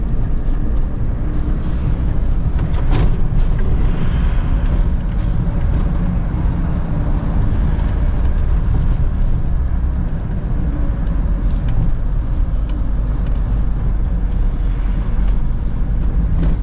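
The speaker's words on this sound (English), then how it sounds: "We're going over a Victorian swing bridge" A VW T4 camper van drives over a Victorian swing bridge, a steady, loud low engine and road rumble with wind buffeting throughout, nearby and continuous with no talk.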